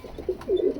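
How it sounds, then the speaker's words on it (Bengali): A high-flying breed pigeon chick, a double-barred jack-colored bird, gives a short soft close coo in two low rolling notes, quiet and alone. "পারা উড়া পায়রা"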